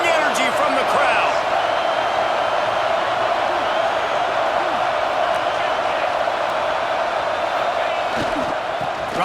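A football stadium crowd roars steadily throughout a rivalry game at Notre Dame, a dense, continuous wash of cheering and yelling with no pause, loud and close around the listener.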